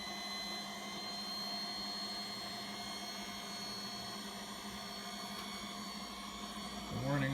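A Beko WX842430W washing machine drum spins up toward its 1400 rpm spin, giving a steady layered whine and hum that rises and thickens near the end.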